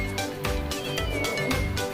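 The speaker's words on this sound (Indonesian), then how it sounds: "Kucingnya diangkat dulu guys. Kasihan dia, kayaknya nangis terus." A toy cat doll meows repeatedly in short cries among children's toys, a mechanical, tinny mewing that loops with steady rhythm and sounds close and fairly loud throughout.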